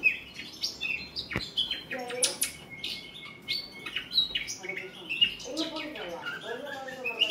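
A five-month-old young nightingale sings indoors, a busy run of varied chirps, whistles and trills at close range, with no talk over it.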